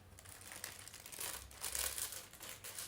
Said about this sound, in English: there's a tissue paper that you can flip open